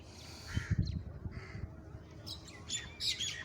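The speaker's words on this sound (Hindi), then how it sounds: "यकीनन आप परिंदों की आवाज़ें भी सुन रहे होंगे।" Birds call around an old brick mosque, with crow-like caws and squawks plus a few chirps over low outdoor background noise, moderately faint.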